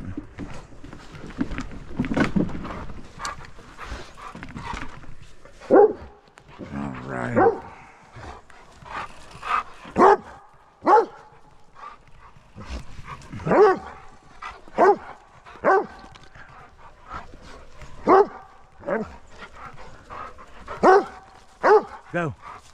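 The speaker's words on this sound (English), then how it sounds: "Let's go for a bicycle ride with Rufus and Buddy, or whoever this dog is." Dogs barking during a bicycle ride, repeated sharp barks at irregular intervals, some close and loud, with a person talking in between and outdoor background noise.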